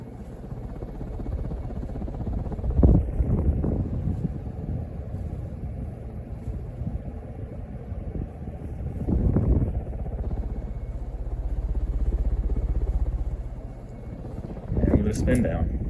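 A 1983 Casablanca Four Seasons ceiling fan runs on high speed with a steady, powerful low whir and rumble, swelling in a few brief surges.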